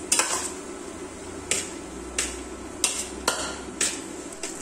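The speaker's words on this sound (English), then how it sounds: "Now add the idiyappam plates in the pan. Mix it well for 2 to 3 minutes." Idiyappam string hoppers being mixed in a pan, with a series of regular metallic taps and scrapes from a utensil against the pan about every half second over a faint background hum, no talking.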